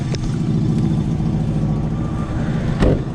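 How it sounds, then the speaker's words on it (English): A cold Toyota Camry engine idles and revs with a rough, raspy note like a bad exhaust leak, a steady close mechanical drone with one sharp burst near the end. "It just sounds weird, like a very bad exhaust leak."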